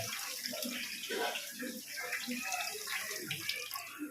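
Rice being washed in water for Kerala-style ghee rice, a steady splash and slosh of water with running-tap sounds, close, while a person talks over it.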